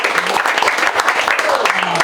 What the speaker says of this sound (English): Please give Tiff a massive round of applause.